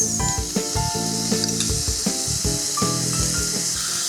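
Cabbage and capsicum strips stir-fried with salt and soy sauce over a high gas flame, giving a steady close sizzle with soft clatters of stirring throughout, no talk.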